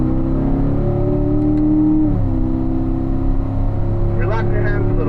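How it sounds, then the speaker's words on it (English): A car on a racetrack pulls hard through the gears into fourth, its engine a loud continuous roar from inside the cabin, with a pitch drop at the shift and then climbing again, a voice briefly talking over it. "We're going to accelerate nice and smooth up into fourth gear."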